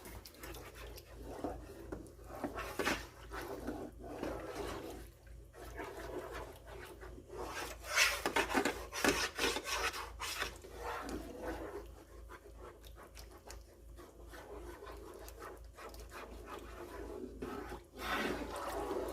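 Sausage gravy is stirred in a pan for jumbo sausage gravy biscuits, giving soft, irregular scraping and rubbing strokes with a low hum beneath. The sound is fairly quiet and close, and no one speaks.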